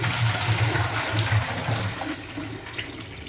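Dried soapnuts and shikakai pods being washed, a steady close rush of running and sloshing water that continues throughout before easing slightly toward the end.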